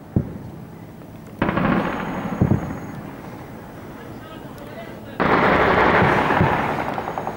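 Bombs dropped by a warplane explode over the town of Talbiseh, Syria: a sharp blast followed by long, heavy roaring rumbles, with voices heard amid the din.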